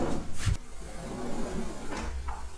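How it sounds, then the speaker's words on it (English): A drawer in a sailboat's galley interior slides open and shut, giving soft scraping and knocking thuds heard close by against a low background hum, with no talking. "I like that you can have drawers here."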